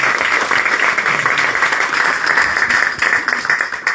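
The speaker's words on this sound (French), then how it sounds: "on prend note que vous applaudissez Hélène Barry" Applause from an audience at a press conference, a steady, dense patter of many hands clapping that stays even throughout without a break.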